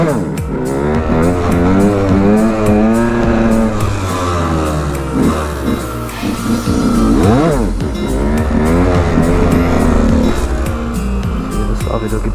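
A KTM EXC 125 two-stroke dirt bike engine roaring during wheelie practice, loud and close, revving up and down in repeated swells as the throttle is worked, with a voice talking over it.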